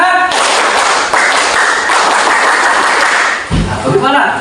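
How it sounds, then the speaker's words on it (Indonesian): A group of people clap together in a loud, rhythmic spirit clap in a classroom setting, a dense burst of hand claps lasting several seconds before breaking off, with voices briefly heard at the end. "sekali lagi tepuk semangat"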